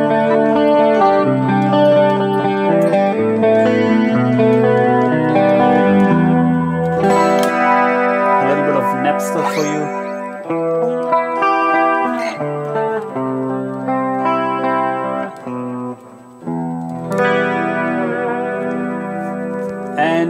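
An electric guitar plays through a clean patch on a Kemper profiling amp, with picked chords and single notes ringing out over several bars, loud and upfront, with a touch of chorus and echo and no voices.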